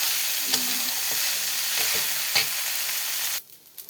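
Rice and lentils frying in a pan give a steady, dense sizzle with a few scraping stirs, close and loud, before the sound drops away abruptly near the end.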